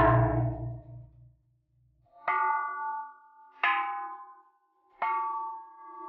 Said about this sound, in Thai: แวะตีคล้องตีระฆังเพื่อความโด่งดังด้วยนะ